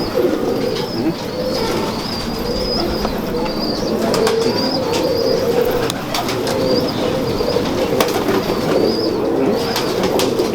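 A Teddy pigeon coos repeatedly over a dense, loud background of birds in a loft, with bursts of wing flapping and scattered sharp clicks throughout.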